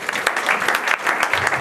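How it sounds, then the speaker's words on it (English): Audience applause after a talk-show segment: dense, steady clapping from a room full of people, close and continuous for a moment with no voices over it. "I think you deserve a round of applause for that"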